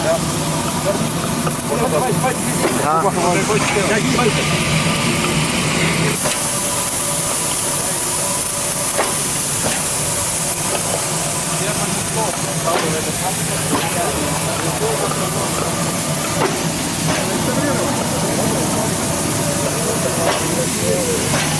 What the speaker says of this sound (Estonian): Siin on reisirong, see on erirong.